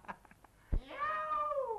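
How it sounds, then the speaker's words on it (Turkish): A tomcat meows at night, a long drawn-out yowl that rises and slowly falls, preceded by a sharp thump and faint scattered noises, fairly close and clear with no one talking. "Bıraksak bütün gece miyavlayacak yani."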